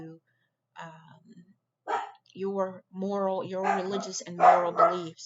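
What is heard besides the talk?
dogs barking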